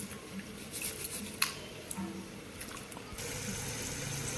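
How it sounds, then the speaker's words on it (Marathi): Rice washed by hand in clean water in a pot, swishing and sloshing water with light clinks of grains and metal, followed by a steadier pouring or running-water hiss near the end, close and fairly quiet. "इथे आपण तांदूळ धुवून घेऊयात, असे स्वच्छ 2 पाण्याने धुवून घेऊयात।"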